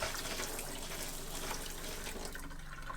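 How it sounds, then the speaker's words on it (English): Water gushes steadily from a camper faucet while the onboard water pump runs beneath it, a dense continuous rush that eases slightly toward the end. "When I turn the faucet on, I should hear the pump kick in"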